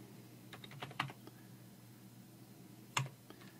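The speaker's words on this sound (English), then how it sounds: "We're going to start by typing in some brackets." Computer keyboard typing while configuring Windows VPN software: sparse, quiet keystrokes tapping close by, with two louder clacks standing out about two seconds apart, and no talking.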